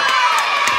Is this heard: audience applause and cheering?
yes